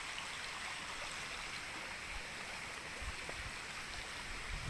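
A strong stream current rushes over a rocky riverbed near a large tree, a loud, steady, broadband roar of flowing water that stays constant and close throughout, with no voices.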